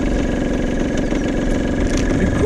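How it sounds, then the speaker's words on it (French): A small HM CRM 50cc motorcycle engine idles loudly and close, a steady buzzing putter with no revving or voices. "le ralenti suffit au moteur de gagner de l'inertie"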